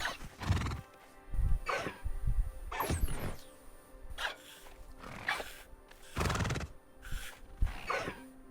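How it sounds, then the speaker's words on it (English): A horse in the video game Hogwarts Legacy neighs and whinnies several times, loud and close, with clip-clop hoofbeats in between and no talking. "Horse."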